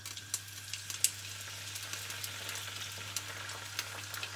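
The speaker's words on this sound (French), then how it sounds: "je vais plonger les frites tout doucement" Celeriac fries cook gently in a not-too-hot oil bath, a soft, steady sizzle with fine crackling pops and a low hum underneath, close and fairly quiet.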